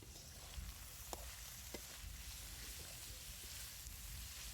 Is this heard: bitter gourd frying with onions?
yes